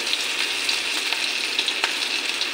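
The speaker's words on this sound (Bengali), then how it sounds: "এখন আমি মাখা বড়াটি ডালের বড়া মতন করে আমি ভাজা করে নেব।" Malabar spinach fritters deep frying in hot oil give a steady, close sizzle with small crackling pops throughout.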